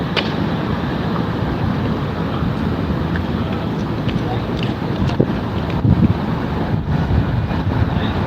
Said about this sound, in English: Oh, this wind feel good.